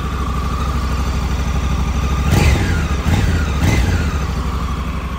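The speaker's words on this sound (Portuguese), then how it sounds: "Aceleradinho de leve aqui, tá, galera?" A 2023 Honda CRF Africa Twin 1100 motorcycle engine idles close by and is blipped lightly twice with the electronic throttle, each brief rev rising and falling over a steady idle, with no talking.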